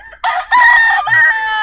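A White Kelso rooster crows loudly and close by, one long sustained call that follows a brief quieter lead-in.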